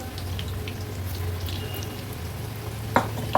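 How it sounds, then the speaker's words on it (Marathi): Potato and spinach pakoras (aloo palak bhaji) in hot oil give a soft, steady sizzle and bubbling hiss at low volume, with a couple of faint clicks near the end. "कांदा भजी कशी आपण तेलामध्ये सोडतो तशीच ही भजी सोडायची आहे"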